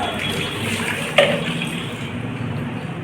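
Water splashes and runs while a small child is bathed at home, making a continuous close wash of liquid with one brief louder splash partway through, and no speech.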